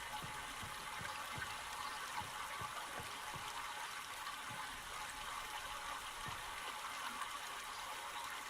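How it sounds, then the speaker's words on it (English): Steady stream of water rushing through pipes in the video game Myst, a constant, fairly quiet wash with faint low knocks scattered through it, heard alone. "I can hear plainly that we now have water flowing when we did not before."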